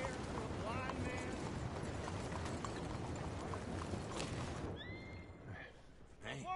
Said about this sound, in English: Hey, good looking horse there.